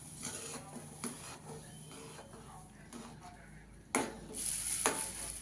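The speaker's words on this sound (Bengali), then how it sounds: "এবার আমি সুজিটা এক হাতে দেবো আর এক হাতে নাড়বো।" Semolina stirred into boiled milk in a pot for suji dudh puli, heard as repeated close scraping strokes over a low simmering hiss that grows busier toward the end.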